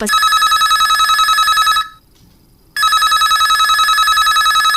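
A telephone rings loudly for a listener calling in to an All India Radio FM show in Raigarh, two long electronic ring bursts separated by a short silent gap.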